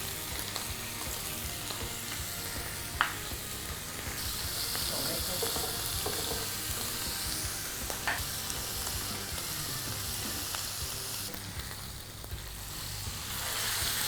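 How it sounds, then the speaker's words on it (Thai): Beef steak sears in a hot pan with butter just after being flipped, giving a steady, loud, continuous sizzle with a few brief sharp crackles and pops, and no voices. "เราก็กลับด้านนะครับ ใส่เนยเข้าไปนิดนึงเพื่อความหอมนะครับ"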